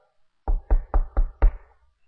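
Five sharp, evenly spaced knocks on a door land in quick succession, close and clear against near silence.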